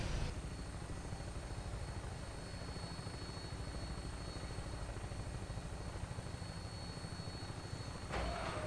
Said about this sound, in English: Stand by for takeoff.